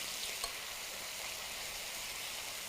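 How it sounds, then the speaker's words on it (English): A piece of chicken with ginger sizzles steadily in a hot pan, a fairly soft, even hiss of frying fat with faint crackles and no talking. "I'm going to cook my piece of chicken with that ginger, so that ginger will continue to crisp up as my chicken goes in"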